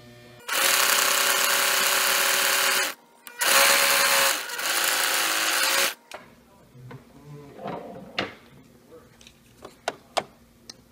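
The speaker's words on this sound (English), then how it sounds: "we're just finishing up the side here of serging the edges of your mermaid tail" A serger stitches the edges of a fabric mermaid tail in two loud, close, steady bursts of whirring, followed by quieter handling noises and faint clicks.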